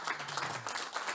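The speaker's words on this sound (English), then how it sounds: "the applause shows that how they enlighten the participants" Audience applause at a UNDP Indonesia CEO roundtable on the gig economy and digital transformation, a steady dense wash of many hands clapping at moderate level, no voices over it.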